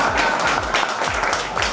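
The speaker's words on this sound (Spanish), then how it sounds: "Aplaudan." Applause from a small group of people at a men's runway modelling class, a steady patter of claps running close and fairly loud for the whole moment.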